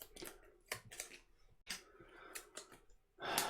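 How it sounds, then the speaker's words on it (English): A deck of game cards is shuffled for the Middara board game, several quick riffling bursts separated by short pauses, ending in a louder sustained riffle, close and alone. "Let's give it a good shuffle."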